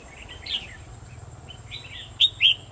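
A red-whiskered bulbul gives several short, bright chirping notes outdoors, scattered and fairly close, the last two the loudest, over a low steady background hum.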